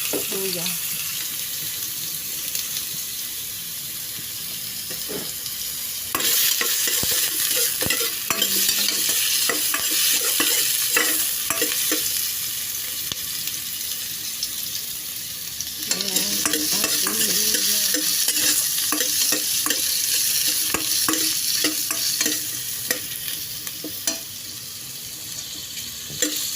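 Ginger sizzling in a little oil in a pan, a loud, close, continuous hiss of frying with bursts of stirring and scraping scattered throughout.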